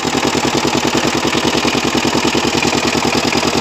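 A Kamco power tiller engine runs steadily nearby, a loud, even, rapid chugging idle with no voices over it.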